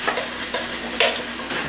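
Mushrooms tumble into a pot of simmering turkey barley, giving a few soft sizzling, stirring scrapes and light clatters close up, with no talk.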